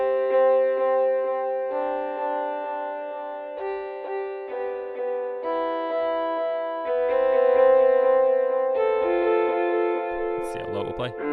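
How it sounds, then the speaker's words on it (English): A GarageBand software instrument plays a sustained melodic line with an echo effect applied, notes repeating and trailing off, ending in a brief burst of distorted noise. "Let's put some echo on here."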